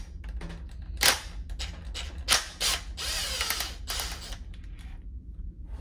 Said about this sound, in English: we're going to take our impact driver or screwdriver, put it down in the chuck